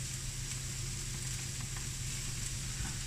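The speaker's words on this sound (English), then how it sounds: "So I'm going to put the bacon into the pan now." Bacon rashers, thin supermarket slices, sizzling and frying in a pan, a steady, loud, continuous crackle with soft spatters, close up and alone with no talk.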